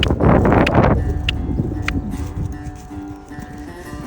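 A horse on a small farm moves at a canter, with a loud rustling, thudding burst up close at first, then softer scattered hoof sounds and a distant outdoor hush.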